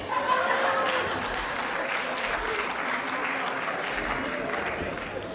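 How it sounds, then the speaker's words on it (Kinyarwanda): An audience applauding Rwandan artists at a comedy performance, dense sustained clapping from a crowd, steady and loud throughout. "amashyi menshi ku bahanzi bo mu Rwanda"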